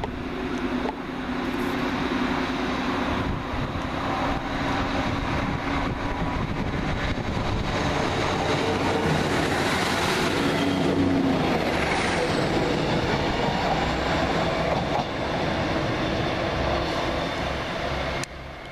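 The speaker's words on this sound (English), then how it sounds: "Just now leaving the 1346 Northern Rail service from Manchester Victoria to Leeds via Hebden Bridge and Dewsbury" A Northern Rail Class 152 diesel unit pulls out of Rochdale station on a Manchester Victoria to Leeds service, its steady engine rumble and rolling wheel noise holding close and loud for the whole stretch.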